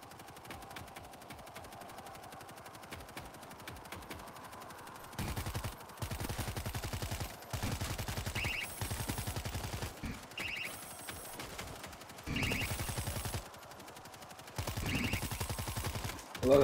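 Machine gun fire from the zombie shooter World War Z comes in long sustained bursts separated by short pauses, loud and rapid, with a quieter stretch at the start.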